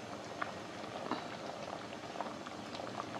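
A pea and potato curry (vatana usal) simmering in a pot, a faint, steady bubbling with small pops scattered throughout.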